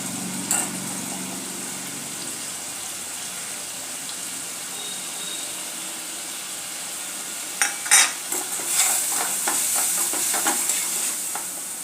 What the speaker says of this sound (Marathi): आता हे आपल्याला तेल सुटेपर्यंत मसाला चांगला भाजून घ्यायचा आहे